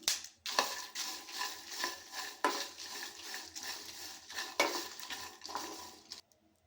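Peanuts roasting in a pan for a stuffed bitter gourd curry, with repeated scraping and stirring strokes and soft rattling of nuts against the metal, fairly close and steady, ending in near silence.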